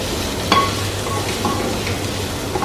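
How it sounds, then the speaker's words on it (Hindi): Soya pulao sizzles in a hot pan while being stirred, a loud continuous frying hiss with a few faint scrapes and clinks of the spoon, close up and without speech. "और सबको अच्छे से मिलाऊंगी फिर से।"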